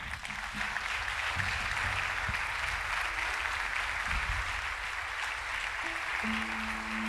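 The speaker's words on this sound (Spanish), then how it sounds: "Dale un aplauso al Señor." A church congregation claps in steady, dense applause for several seconds at a worship service, filling the room evenly with a low hum beneath and no voices on top.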